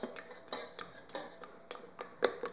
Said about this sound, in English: Making sure the bottom's getting mixed in. Got a good stir.